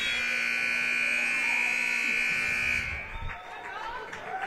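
A loud, sustained electronic buzzer drones for nearly three seconds over crowd noise at the end of a high school basketball game, then cuts off, leaving arena chatter and shuffling.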